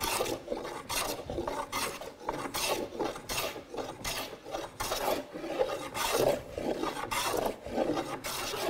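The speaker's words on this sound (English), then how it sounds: "I'm still planing" A hand plane shaves a wooden board, working into the end grain with a steady run of close, rasping strokes, one after another, with no talking.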